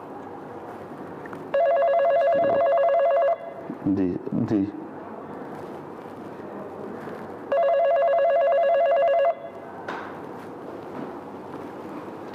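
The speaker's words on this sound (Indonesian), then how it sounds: "ini ada telepon Gus" A telephone rings in two long bursts of electronic trilling, separated by a pause filled with brief talk and a few knocks, all close and clear over a low room background.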